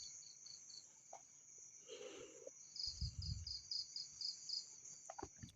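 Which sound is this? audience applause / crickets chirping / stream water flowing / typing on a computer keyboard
crickets chirping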